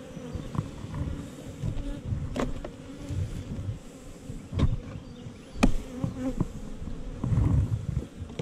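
Dense, agitated buzzing of many honey bees swarming close by during a hive honey harvest, rising and falling in intensity with a few sharp bumps and knocks.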